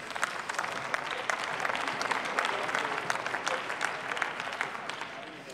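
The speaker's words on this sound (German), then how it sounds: "Und ich finde, dafür haben Sie einen Applaus verdient." Broad applause fills a German parliament chamber, a dense, even patter of many hands that holds steady for several seconds at moderate distance with no voices over it.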